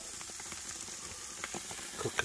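Burgers frying on a grill, a soft steady sizzle with faint crackles and pops, fairly quiet and with no talking.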